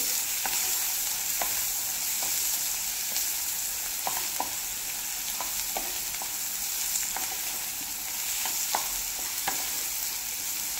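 Dried Bombay duck fish is stirred with turmeric in a hot pan: a continuous close sizzle of frying, broken by repeated scraping clicks of the spoon against the pan, with no voices.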